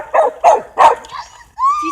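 A dog barks sharply three times in quick succession at a remote-control car, then gives a higher, drawn-out whine, close and loud with no talk over it.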